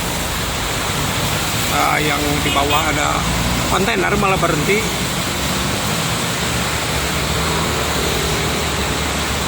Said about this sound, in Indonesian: Hujannya sangat deras sekali.